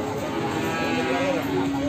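Cattle of the Rambon breed low at the Imogiri livestock market in Bantul, a drawn-out moo rising near the end over a steady murmur of background market noise.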